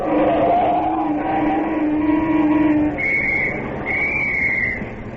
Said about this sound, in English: Were you whistling at me, officer?